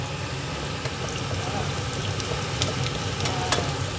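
Shallots cook in a pan with a steady close sizzle and soft crackle, and small pops and taps rise through it while a voice talks quietly in places.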